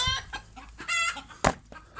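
Several chickens cluck and squawk close by in quick, irregular bursts, with one sharper call standing out, during vaccination against Newcastle disease.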